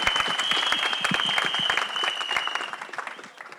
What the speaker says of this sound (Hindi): please, तालियां होनी चाहिए.